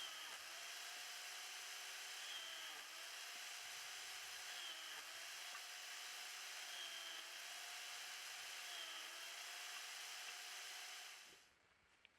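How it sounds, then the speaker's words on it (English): A Stihl E140 electric chainsaw cutting branches whines steadily with a high motor drone and slight rhythmic dips as wood is fed in, running loud and continuous for about eleven seconds before cutting off. "all branches are being cut in pieces very quickly by just taking it from the pile and holding it against the chainsaw"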